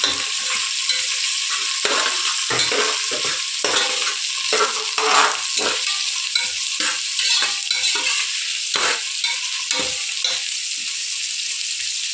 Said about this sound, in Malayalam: മഞ്ഞൾ ചെറുതായി വാട്ടിയെടുക്കണം നന്നായിട്ട് ഇളക്കി കൊടുക്കുക